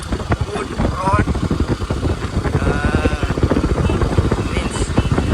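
Motorcycle riding along a good paved road on a trip to a waterfall, its engine drone loud and close and buffeted by wind, running steadily throughout with a voice speaking over it.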